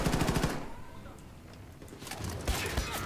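Gunfire in the video game Wolfenstein II: The New Colossus on hard difficulty: a rapid burst of shots opens the clip, a quieter stretch follows, then more loud shots and impacts return near the end.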